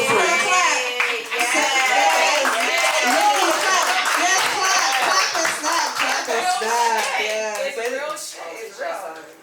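An audience claps along during a talk-show interview, steady rhythmic hand claps continuing throughout while voices talk and call out over them, fairly loud and close.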